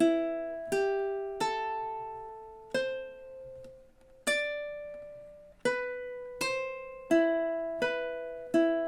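Ukulele plucking the theme from The Exorcist, a sequence of about a dozen bright, ringing notes in an uneven repeating rhythm, each decaying before the next, close and alone with no talk.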